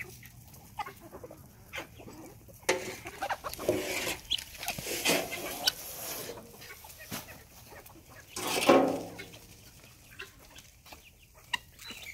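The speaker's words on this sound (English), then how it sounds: "There's a chicken in there." A chicken clucks indoors among pet birds walking on the floor, with repeated short clucks building to a louder, closer burst near the end.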